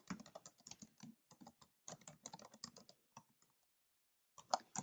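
Someone types a name on a computer keyboard: a quiet, quick run of light keystrokes, a short pause, then a few more taps.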